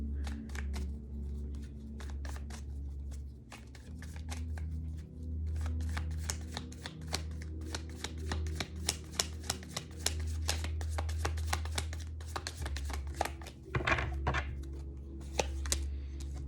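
Tarot cards being shuffled by hand in a quiet room, a long run of rapid, crisp riffling snaps with brief pauses between bursts.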